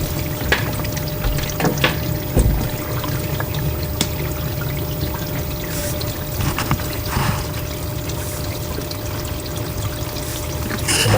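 An LG dishwasher runs with water, giving a steady close rush and splash of spraying and trickling water that holds throughout, with no talk over it.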